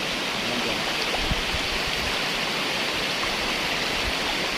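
Tham Phra waterfall in Thailand pours in a steady, dense rush of water, a continuous broadband roar that stays even and close throughout with no voices.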